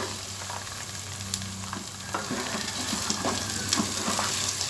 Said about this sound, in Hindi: मटर डाल के अब हम इसकी तेज़ आंच पे 2 से 3 मिनट तक इसकी बुनाई करेंगे।